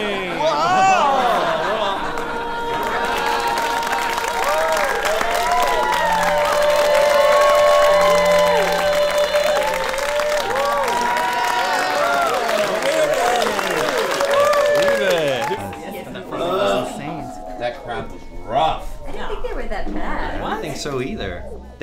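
A live crowd cheers and applauds loudly for about fifteen seconds, with whoops and shouts layered over steady clapping before it fades into scattered noise, while people talk nearby.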